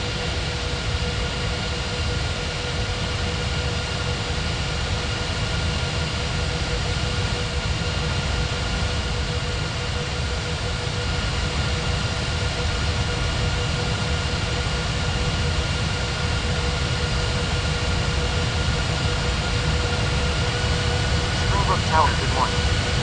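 Continuous jet engine roar of an airliner taking off in an air traffic control video game, steady and loud throughout with a constant hum and faint tones layered underneath.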